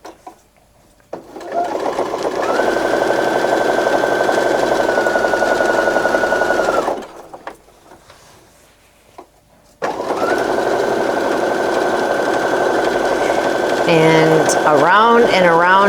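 A sewing machine quilts a log cabin quilt block in two long, loud, fast runs of steady stitching, broken by a short pause, with a brief voice near the end.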